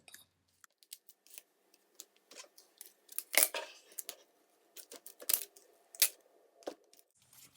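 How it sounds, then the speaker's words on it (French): Duct tape being cut into strips, heard as a run of close, crisp snips, crackles and tearing bursts in irregular rhythm, fairly quiet overall with no voices. "Commencez par couper 6 bandes de 21 cm."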